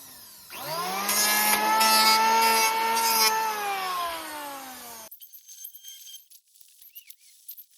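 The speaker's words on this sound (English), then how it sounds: "Finally I finished planing all the wood" An electric planer shaves wood on a garden bench build, starting up into a steady high whine with a rising pitch, then cutting off abruptly, followed by scattered light knocks and clatter.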